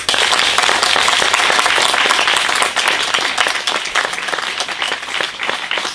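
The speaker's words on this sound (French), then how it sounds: "j'aimerais un tonnerre d'applaudissements pour remercier ceux qui les ont confectionnés" An audience applauds after a stage show, a loud, dense and sustained clapping that fills all six seconds, easing slightly in the second half, with no speech over it.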